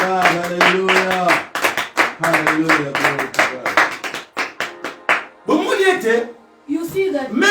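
A church congregation claps in rhythm while acclaiming the glory of Jesus, steady sharp hand claps mixed with loud voices calling out and chanting over them, close and lively.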